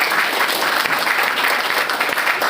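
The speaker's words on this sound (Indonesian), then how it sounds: "berikan tepuk tangan kalian untuk Nusantara." Loud, steady applause from a student audience at a motivational event at a polytechnic campus, a dense wash of clapping that holds at the same level for the whole moment.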